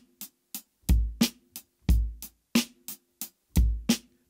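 A drum kit plays a second groove from an exercise book, with booming kick drums, crisp snare hits and cymbal strokes in a steady repeating pattern, close and loud with no voices.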